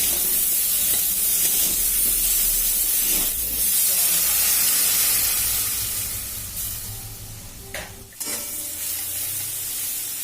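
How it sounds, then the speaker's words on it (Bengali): Dried red chilli and cumin crackle in hot oil, a loud dense sizzle and hiss up close that eases a little in the latter half, with a sharp stirring knock near the end. "শুকনো লঙ্কা বা জিরে ফোড়ন দিয়েছি, আর তারপরে পেঁয়াজগুলোকে দিয়ে পেঁয়াজগুলো ভেজে নেব।"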